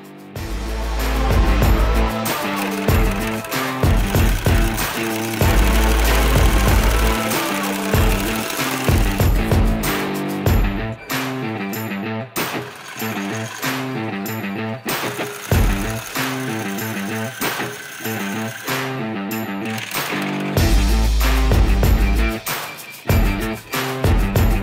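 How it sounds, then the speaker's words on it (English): A sewing machine double-stitches marine canvas for a boat sprayhood through double-sided sticky tape, with loud, rapid mechanical chattering in long close bursts separated by brief pauses. "stitch straight through the double-sided sticky tape with a double stitch."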